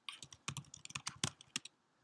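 Quick bursts of keystrokes on a computer keyboard, roughly a dozen crisp clicks in an uneven rhythm, close and fairly quiet, with no voice.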